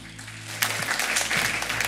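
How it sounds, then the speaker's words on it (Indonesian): A church congregation claps together in agreement after a pastor's call, a sustained patter of many hands running under a steady low hum for about two seconds. "Yang setuju tepuk tangan dulu."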